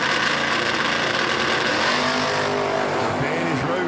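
Darren Roden's Chevelle drag racing down the strip at the US 13 60th anniversary event, a loud continuous engine roar with tire noise, a track announcer talking over it throughout.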